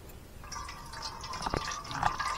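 Water is poured into a pan of spicy Maharashtrian crab curry (khekadyancha rassa), giving a steady close splashing trickle for about two seconds with no talking.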